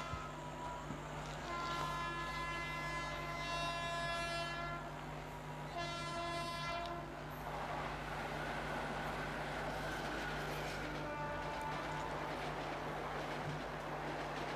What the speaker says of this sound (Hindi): ये ट्रेन ज़बरदस्त है यार।